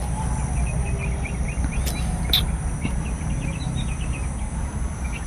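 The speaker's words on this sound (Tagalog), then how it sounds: "tara, tingnan mo, may mga uwak" Crows call outdoors with short, repeated cries, faint and fairly distant above a steady low background rumble, with no talking.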